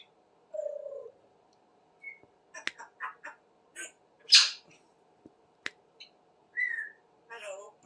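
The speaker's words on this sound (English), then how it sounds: "Smokey, why don't you whistle a tune?" A pet bird named Smokey gives a scattered run of short whistles, chirps and squawky calls indoors, some brief and sharp, one louder burst in the middle, with quiet pauses between.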